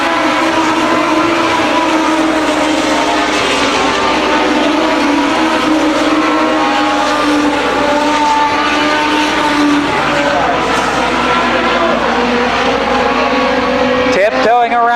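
Race cars lapping Columbus Motor Speedway during a main event, a steady continuous engine roar from the field throughout, with a commentator's voice over it.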